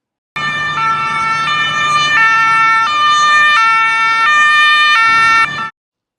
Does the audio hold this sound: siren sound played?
yes